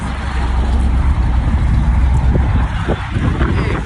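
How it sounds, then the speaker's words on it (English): A Ferrari passing at a Sacramento cars and coffee meet, a steady broad engine and road roar with wind-like noise, fairly loud and sustained, heard nearby in open air without clear talk. "Hey, just a casual Ferrari."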